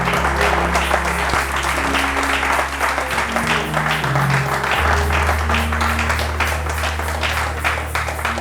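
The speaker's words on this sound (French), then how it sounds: "Qui va acclamer la parole du Seigneur?" A church congregation applauds a preacher, dense continuous clapping from many hands with a sustained crowd wash, loud and steady throughout, with a low tone underneath.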